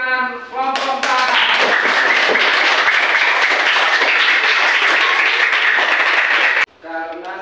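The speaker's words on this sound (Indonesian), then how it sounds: "Beri tepuk tangan kelompok 4." A classroom of students claps for a presenting group, a sudden loud burst of steady, rapid clapping that holds for several seconds and cuts off abruptly, with a voice speaking just before and after.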